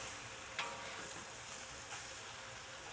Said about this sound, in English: Make sure that egg cooks nicely, and these noodles are just getting nice and seared on the side.